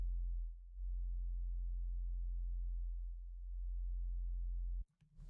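A sub bass synth note, sustained and low, layered in a big-room EDM synth patch. It holds as a steady pure tone for almost five seconds and then cuts off abruptly, with a faint short noise following.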